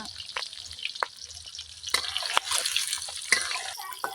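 Eggs frying in a pan outdoors at a picnic, browning in hot oil, a bright crackling sizzle with scattered pops and a few utensil knocks, close by and with no speech.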